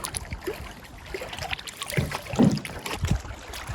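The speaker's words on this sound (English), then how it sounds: "So we're going to hop in our canoes and paddle on out of here." Canoes paddle away from a campsite on Lake Aziscohos in Maine on a windy day: soft paddle strokes and small splashes of water under steady wind noise, close by, with no talk.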